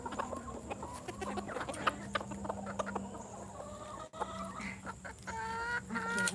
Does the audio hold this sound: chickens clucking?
yes